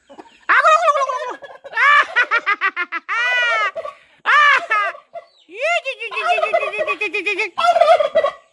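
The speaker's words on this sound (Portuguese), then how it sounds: "Olha o peru de Natal." A young turkey being raised for Christmas, too young to have grown spurs, gives loud, close gobbles in repeated rapid, rattling bursts with short pauses between them.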